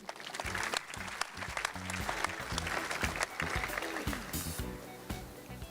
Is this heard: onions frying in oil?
no